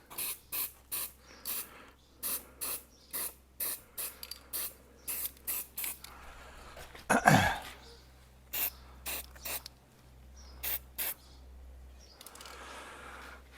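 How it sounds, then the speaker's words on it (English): Spray paint can held upside down and sprayed in a run of short bursts, then left hissing until it sputters out, clearing the nozzle during a Jaguar XKR rear brake caliper repaint; close and loud, with no talk. "just turn it upside down, just spray till it stops coming out, and that'll clear the nozzle out"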